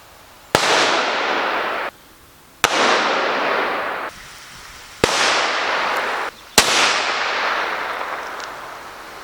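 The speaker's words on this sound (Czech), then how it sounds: "Střelba Lipovský 1" Four sharp, loud gunshots recorded as sound samples, evenly spaced about two seconds apart, each a sudden crack trailing into a long ringing decay, with no voices.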